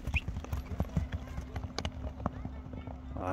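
A horse runs, its hooves striking in a quick, uneven rhythm of close thuds, with faint voices and background noise underneath.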